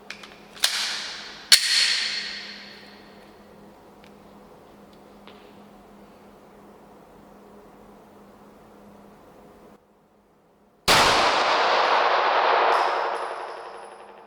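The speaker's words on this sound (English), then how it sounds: "these are the very first shots through the Glock G45" Glock G45 pistol shots: two sharp cracks close together near the start, a quiet gap, then a third loud shot with a long ringing decay, outdoors at close range with no talk.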